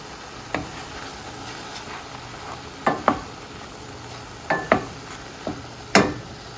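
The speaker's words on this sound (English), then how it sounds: "So first thing is breaking the mushrooms down in some butter" Mushrooms cooking down in butter in a pan, a soft continuous sizzle broken by several sharp clinks of a utensil against the pan.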